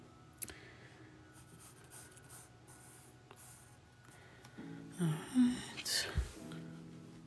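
Markers or coloring pencils scratch faintly across paper in soft, uneven strokes, with a few louder rustles and small vocal noises toward the end.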